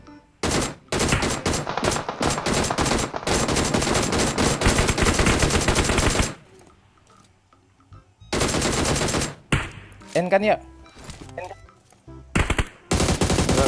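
Rapid automatic gunfire bursts in PUBG Mobile, loud and close in long sustained volleys, then a pause and more short bursts, with players talking over the shooting.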